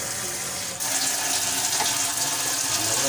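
A kitchen tap runs over rice being washed, half a kilo of grain rinsed under the stream. The water is a loud, steady hiss that briefly dips near the start, then flows on unbroken with no voices.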